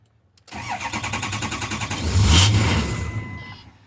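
A Ford 6.0 diesel pickup engine cranks with rapid rhythmic starter pulses, catches and swells into a loud rough run, then fades as it stalls, heard close with no talk.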